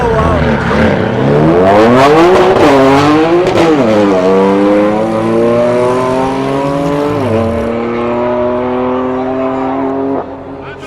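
A BMW M3 launches hard off the line in a drag race, its engine screaming up through rising revs with several sharp gear-shift dips, loud and close throughout before easing off near the end.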